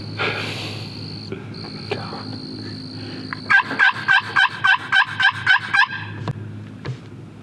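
A wild turkey gobbles in one loud, rapid, rattling burst of about ten pulses, heard outdoors over a faint insect background.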